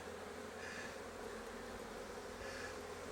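A honey bee swarm buzzes steadily as the bees fly into a new hive body, a dense continuous hum close by with slight swells in intensity.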